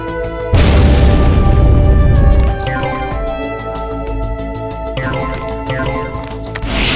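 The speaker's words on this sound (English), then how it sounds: "Missile launch." In the video game Evolution: Battle For Utopia, a missile launch erupts into a sudden loud boom lasting about two seconds, followed by softer ringing, clinking game effects and a layered electronic backdrop.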